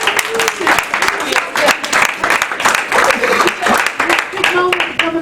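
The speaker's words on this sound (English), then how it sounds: "you should be clapping much louder" An audience at a university dissertation workshop applauds with dense, steady clapping while a voice talks over it.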